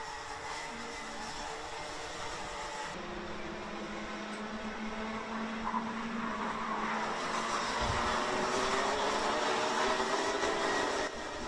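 Rotax Junior Max karts racing at Bruck during a Grand Festival qualifying heat, engines buzzing steadily at mid distance in a sustained, rising drone with a brief lower passing note.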